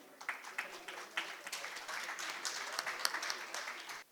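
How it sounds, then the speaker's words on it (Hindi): Audience applause at the inaugural session of an education conference in Jammu, a steady patter of many hands clapping for about four seconds, moderately loud with sharp individual claps standing out near the end. "can we have a big round of applause, please?"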